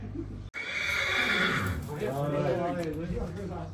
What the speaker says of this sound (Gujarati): આ ગૌણી ઘોડો જોઈ શકો છો પ્યોર કાઠિયાવાડી છે